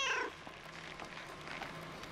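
A cat gives a single short, faint meow at the very start, then only quiet room noise follows.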